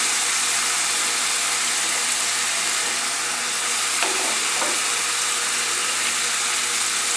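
Chopped beef liver frying in a pan until cooked through, a loud, dense and unbroken sizzle up close, with a faint stir or scrape partway through and no voices.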